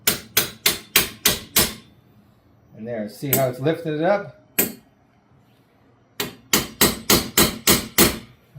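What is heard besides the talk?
hammer tapping copper pipe antenna fitting onto a nut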